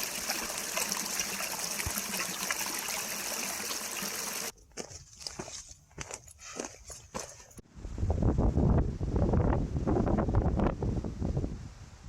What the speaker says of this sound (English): There is reliable water flowing down the upper Big Tujunga Canyon.